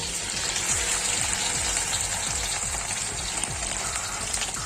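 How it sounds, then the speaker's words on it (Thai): Starch-coated pork ribs frying in hot oil, a loud steady sizzle with crackling and popping throughout, and repeated low scraping or stirring strokes underneath. "จะใส่เนี่ยมันไปทอดนะครับ"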